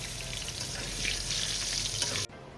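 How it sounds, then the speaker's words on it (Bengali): Potatoes frying in mustard oil for a Bengali tangra fish and cauliflower curry, a dense continuous sizzle with crackling spits, close and loud, cutting off abruptly near the end. "এবার আমি আলুটাকেও ভেজে তুলে নেব"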